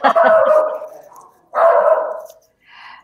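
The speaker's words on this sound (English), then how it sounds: "Someone should make that dog stop barking." A dog barks loudly and close by, two long barks with a gap between them, followed by a short start of another at the end.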